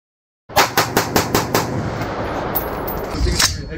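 Gunfire at a shooting range: a quick string of about six loud, close shots fired in rapid succession, followed by a lingering rumble and one more sharp report near the end.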